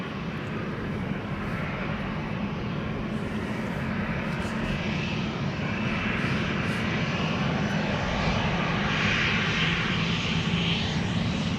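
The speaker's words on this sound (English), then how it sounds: "Okay, then flight 1199 to Oslo, 737-700 this is." A Boeing 737-700 jet roars through its takeoff run at Amsterdam Schiphol, bound for Oslo, a loud, steady engine rumble with broad hiss that holds constant and swells slightly near the end, close by and alone.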